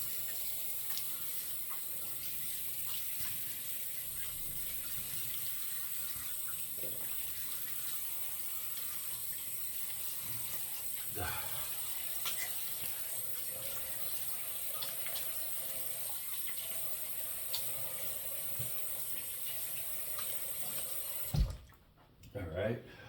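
Water from a bathroom tap runs steadily for rinsing a Parker SoloEdge SE razor head, a continuous close wash that ends with a brief splash and shake near the end.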